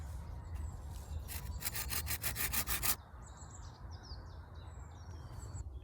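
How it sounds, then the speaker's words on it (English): A freshly coppiced hazel stick is sawn by hand for a bushcraft snare outdoors, about a dozen quick rasping strokes up close. Birds chirp in the background and continue after the sawing stops. "So I need to cut two sections of this stick, one deep enough to go into the ground and fasten the snare"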